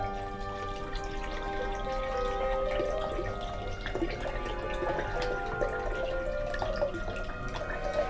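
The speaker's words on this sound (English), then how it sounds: "putting some spring water, maybe a cup or two," Spring water poured from a container into a blender jar for an almond, walnut and pistachio smoothie, a steady close trickle and splash with shifting ringing tones lasting the whole time, with no talking.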